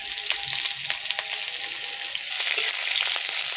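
Dried chillies, garlic and onion fry in hot oil in a pan, giving a bright, crackling sizzle that grows a little louder near the end, with occasional stirring clicks and no speech.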